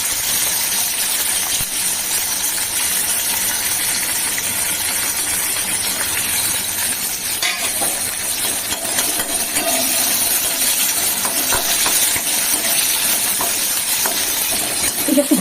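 Chopped onions, green chillies and black cumin frying in oil, giving a steady loud hiss and crackle that runs without break, close up, with no voices over it.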